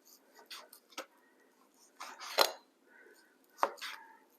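Knife cutting steak for fajitas on a board, a series of irregular sharp chops and taps, close and fairly quiet, with pauses between strokes.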